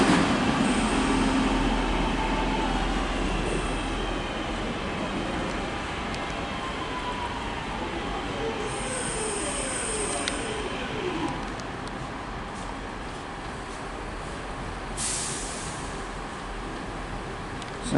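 Northern Class 185 unit 185148 passing through Stockport station on the West Coast Main Line, a steady rumble of wheels and engine with occasional squeals and clatter, continuous and fairly close.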